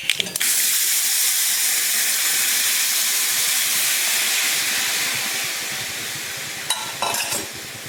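Pepper rasam pours into a hot pan of tempering with a loud, sustained sizzle and hiss that slowly fades, followed by a few clinks near the end.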